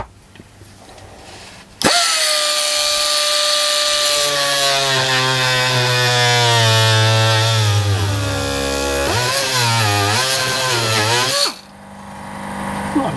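Parkside air-powered multi tool with a universal blade cutting, starting abruptly into a loud, close, buzzing oscillating whine that wavers in pitch as it bites, then stops sharply after about ten seconds.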